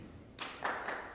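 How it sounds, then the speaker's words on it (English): A few quick hand claps, three close bright smacks in a row, in a quiet convention hall with no talking. "You clapped hands."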